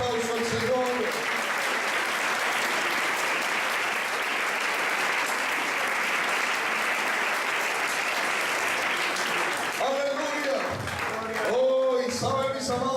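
A church congregation breaks into sustained, dense applause that fills most of the stretch at a steady level. Near the end it thins out and a preacher's voice comes back in.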